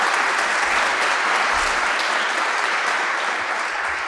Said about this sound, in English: If you could please give a round of applause for Mr.